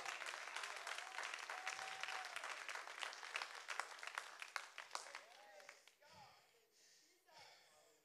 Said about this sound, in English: Come on, clap your hands to him.